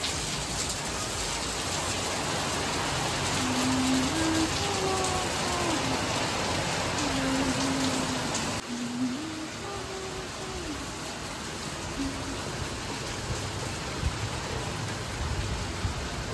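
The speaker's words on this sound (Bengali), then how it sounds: "কি পরিমাণে বৃষ্টি হচ্ছে," Heavy rain pours down outdoors during a monsoon downpour in Bengal, making a dense, constant hiss that stays loud and unbroken for the whole stretch.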